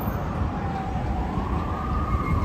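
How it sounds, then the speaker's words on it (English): Police car sirens wail far off in the distance around Times Square in New York during a street protest, a faint, slowly rising tone over steady city traffic noise. "There's like a constant sound of police cars in the distance."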